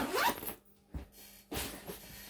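A zipper on a bag's pocket is pulled in a few brisk, raspy strokes, close and fairly quiet, with brief pauses between pulls.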